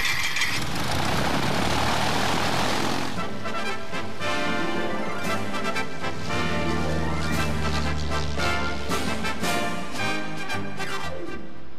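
A propeller aircraft engine starts with a rough burst, then settles into a loud, steady throbbing drone that runs close and continuous with no talking.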